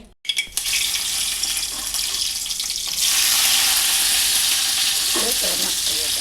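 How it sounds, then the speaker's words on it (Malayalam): Loud crackling sizzle of mustard seeds spluttering in hot oil, building stronger partway through and continuing steadily until it cuts off. "പിന്നെ കടുക് വറുത്തൊഴിച്ചാൽ പുളിമോളം റെഡി കടുവിടാം കടുക് ഒട്ടട്ടെ"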